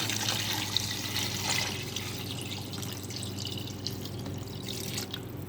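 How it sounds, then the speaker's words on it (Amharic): Cold water pours steadily into a cooking pot with meat for kabsa, a continuous close trickle and splash at a moderate level, with no voices. "ይኸው ቀዝቃዛ ውሃ ነው የምጨምረው።"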